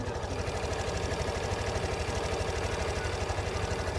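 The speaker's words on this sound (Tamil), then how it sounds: "இன்ஜின் சவுண்ட் கேட்குறீங்களா?" A Suzuki Access 125 scooter engine idles with a steady, rapid putter, close and even throughout, with no voices over it.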